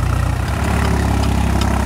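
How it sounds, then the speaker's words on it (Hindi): A farm tractor labours in second gear on a turn while pulling a 7-foot rotavator, its engine a loud, steady, close low rumble with the rpm slightly pulled down under load. "क्योंकि मोड़ पे ज़्यादा ताकत पड़ती है तो दूसरे गियर में ट्रैक्टर थोड़ा सा दब जाता है।"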